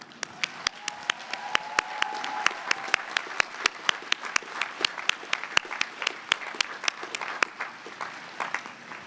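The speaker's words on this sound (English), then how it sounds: "Please join me in applauding these MA candidates." Audience applause at a graduation diploma and hooding ceremony, steady dense clapping from a large crowd filling the hall, with sharp individual claps standing out near the front throughout.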